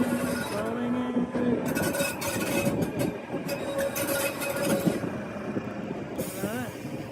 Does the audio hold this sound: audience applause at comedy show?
no